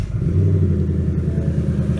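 A 2018 Ford Mustang GT 5.0 V8 with a new engine idles close by, a loud, steady low rumble with a faint pulsing throb and no talk.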